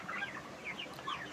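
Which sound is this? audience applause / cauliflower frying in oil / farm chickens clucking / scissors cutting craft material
farm chickens clucking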